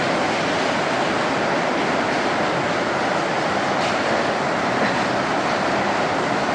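Inside a tea factory, a machine sieving and grinding tea gives a dense, continuous mechanical roar and rattle at constant loudness, with no voices.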